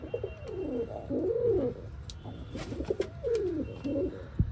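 Pigeons, including Lotan pigeons, coo in a loft: several close, repeated throaty coos come in rolling bursts, with faint flutters and scuffs between them.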